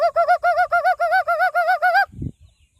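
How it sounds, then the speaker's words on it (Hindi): An Asian koel calls in a rapid series of about nine loud, rising whistled notes, close and alone with no talk, then a short low thump follows. "कोयल और मेरी नकलें उतार रही है"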